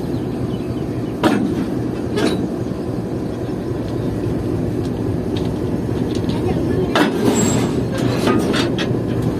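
A GU40 locomotive couples onto the lead of the Khyber Mail passenger train on its Karachi to Rahim Yar Khan run, with a steady rumbling rail and engine drone, clanks and brief metallic squeals, and voices talking over it.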